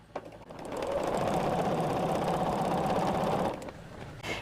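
A sewing machine stitches binding onto a quilt, its steady motor whir running close and continuous for about two and a half seconds before stopping, with brief quieter moments at either end.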